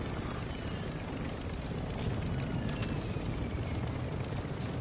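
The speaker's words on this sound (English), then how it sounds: "Helicopter battle." A helicopter in the video game Warzone 2 drones with a steady, loud rotor rumble throughout, with no speech over it.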